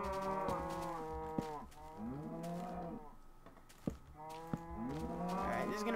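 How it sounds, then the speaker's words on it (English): Repeated deep moos from a Minecraft cow, three drawn-out wavering calls in succession, loud and near, with occasional small clicks between them and no talking. "No, screw you, cow. You're so distracting."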